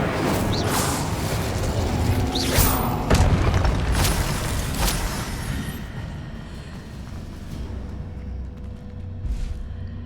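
In the video game Hogwarts Legacy, magic spells are cast in quick succession: booming blasts, bursts and whooshes with sharp impacts. The effects are loud at first and thin out toward the end.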